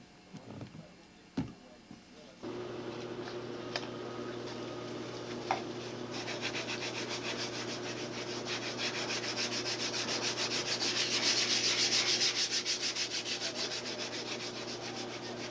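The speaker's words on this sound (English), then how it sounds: "Now we got some blocks with 180 grit. Just roughing out this nose." A fiberglass model airplane nose is sanded with 180-grit blocks, a steady close rasping rub that starts after a few knocks and keeps an even, rhythmic back-and-forth stroke.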